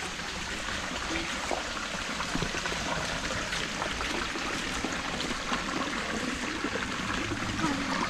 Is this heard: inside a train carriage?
no